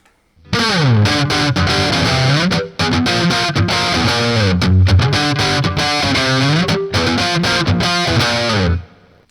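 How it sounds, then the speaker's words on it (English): Electric guitar strung with flat wound strings, distortion engaged, strums one heavy chord over and over in loud sustained bursts with brief gaps between, no voice over the playing. "this is where the distortion kicks in"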